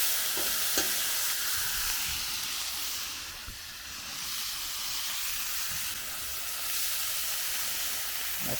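Food sizzles and hisses in a pan on lowered heat at a cabin, a constant bright crackling spatter that swells and eases slightly, with a few faint utensil knocks and no speech.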